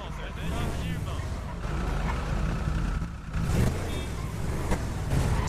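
A Ducati motorcycle engine in the GTA RP video game, a steady mid-level drone with some rising revs, running continuously throughout.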